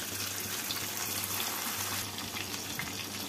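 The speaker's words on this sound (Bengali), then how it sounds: "বাটিটা ধুয়ে অল্প জল দিয়ে দিলাম।" A small splash of water tipped from a rinsed bowl into a pan of mustard paste tempering for a tangra fish curry, a brief steady pour with light sizzle over kitchen background.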